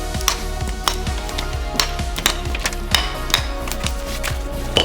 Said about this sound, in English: don't be afraid to practice cutting bricks with your hammer